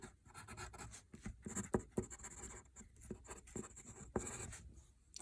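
Pencil sketching small virus shapes on paper, with scratchy strokes and quick hatching that rise and fall in irregular bursts, close and fairly soft, no voices.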